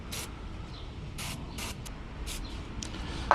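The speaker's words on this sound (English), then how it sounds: "I'm going to start off by spraying them a little bit with this lubricant here." Several short hissing bursts of aerosol lubricant sprayed onto bolts while replacing Toyota Highlander front brake pads, irregularly spaced, sound close to the microphone over a quiet background.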